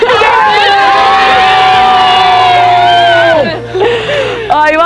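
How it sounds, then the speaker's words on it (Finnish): A team of children and adults at an outdoor competition in Posio lets out a loud, sustained encouraging group shout that trails off after about three seconds, followed by a few scattered cries. "Pistäkääpäs pieni tsemppihuuta siihen vielä."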